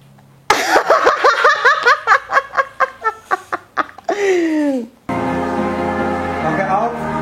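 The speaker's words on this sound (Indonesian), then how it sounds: "Makanya iya sampai batuk" Someone coughs in a rapid, loud series of short bursts after inhaling vape smoke, followed by a strained wheezing breath and then a raspy, sustained vocal sound close to the microphone.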